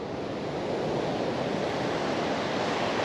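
Steady, loud wash of Pacific Ocean surf on a coral beach at an atoll, broadband and continuous with wind buffeting the microphone, no voices.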